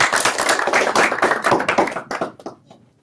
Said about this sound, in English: One last round of applause and congratulations.